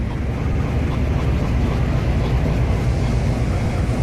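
A custom train engine in the Trainz 2022 railway simulator gives a steady, loud low-pitched rumble that drones on without pause, with no voices over it.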